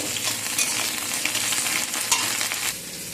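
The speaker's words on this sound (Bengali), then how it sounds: "ফুলকপিগুলো আমি ভেজে নেব" Cauliflower fries in a pan with a steady bright sizzle and occasional stirring scrapes, close and fairly loud, with no voices.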